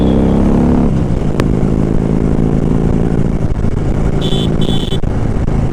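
A heavy Harley-Davidson motorcycle engine runs loud and close with a deep, steady low rumble throughout, and a brief high whine rises near the end.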